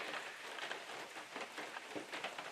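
Steady rain patters softly and evenly on surfaces in misty Alaskan wilderness by a lake, a faint continuous hiss with no voices.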